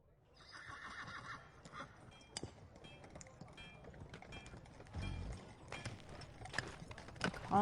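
Horse hooves clop and a horse whinnies during a ride through a fantasy forest setting, a steady muffled rhythm with occasional louder snorts and thumps under a busy, layered soundscape.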